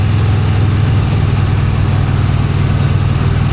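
A 1966 Chevy Impala engine runs rough on a highway drive, a loud, steady low rumble with uneven knocking pulses throughout and no voices.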